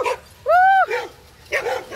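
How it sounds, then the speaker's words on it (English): Dogs out on a quick stroll give a couple of close, sharp barks with brief yips between them, loud against a quiet outdoor background. "All the dogs."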